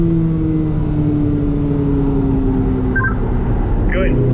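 A Chevrolet Corvette C8 Z06 on the Spring Mountain track pulls hard in third gear, its engine note steady and rising slightly, loud and close, with a voice coaching over it.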